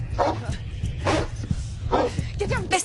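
A dog barks in several sharp, separate bursts, fairly close, with voices talking around the barks.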